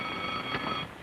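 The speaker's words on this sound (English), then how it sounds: "Oh, burglar alarm." A burglar alarm rings steadily for about a second, a continuous electronic tone at moderate loudness with no talk over it.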